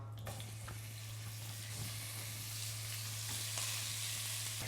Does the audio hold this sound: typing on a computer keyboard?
no